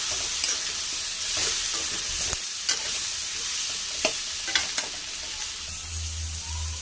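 Curry spices with Kashmiri chilli sizzle steadily in a pan while a spoon stirs them with scattered scraping strokes, up close and without talk.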